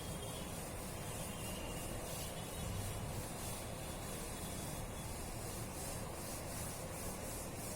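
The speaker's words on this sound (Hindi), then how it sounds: "चलिए अब रब कर लेते हैं" Writing on a classroom board being rubbed out, a steady, faint scrubbing rasp that continues without pause.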